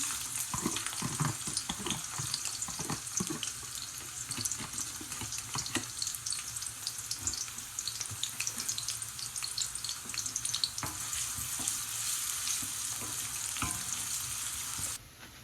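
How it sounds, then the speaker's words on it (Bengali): Onions sizzle and fry in hot oil in a pan for a lentil and drumstick dish, a steady close crackle with scattered stirring clicks throughout and no talking. "অনিয়নগুলো একটু নরম হয়ে আসছে, একটু সামান্য ভাজা হয়ে আসছে।"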